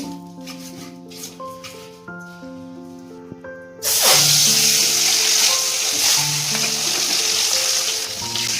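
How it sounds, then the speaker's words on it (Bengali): Eggs mixed with salt and turmeric go into hot oil after potatoes are fried for a Bengali chicken biryani, and a loud sizzling hiss bursts in and carries on steadily under background music. "ডিমে লবণ আর হলুদ মিশিয়ে ডিমগুলোকে একটু ভেজে নেব"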